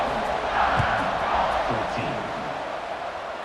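A football stadium crowd roars and cheers before kickoff at an NCAA Tennessee versus Alabama game, a dense, sustained wall of voices with scattered shouts rising out of the steady din.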